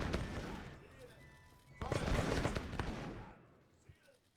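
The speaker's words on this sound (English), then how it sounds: "Our cannons are still shooting here," Cannon fire from a Seven Years' War Kriegsspiel strategy game on a Dresden map, heard as several booming shots and a rolling barrage of distant artillery over a rumbling battlefield, with a voice talking over it.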